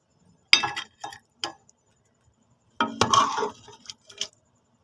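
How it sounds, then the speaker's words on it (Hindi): Metal spoon clinking against a cooking pot of chicken feet curry, two separate bursts of sharp close clinks and scrapes, a few quick taps then a busier cluster of rattling knocks. "तो हम चम्मच को चेंज कर लेते हैं।"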